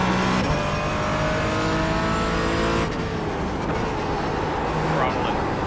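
A race car engine drones steadily in an iRacing endurance race, loud and continuous with gear shifts and shifting pitch, while a driver talks over it.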